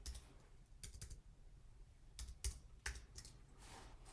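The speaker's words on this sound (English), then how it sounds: "I'm just gonna go ahead and type it in because I already know what color." Computer keyboard typing while entering text into a flyer design in Canva: a few sharp key clicks in short clustered bursts, fairly quiet and close, with no speech.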